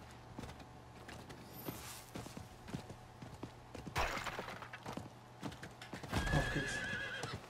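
A horse in the Guild Wars 2 video game whinnies twice, loud and close, with clip-clopping hooves and scattered clatter in the game soundscape, no talking.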